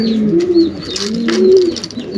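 Pigeons coo continuously in low, rolling tones, with a few faint higher chirps from other birds mixed in nearby.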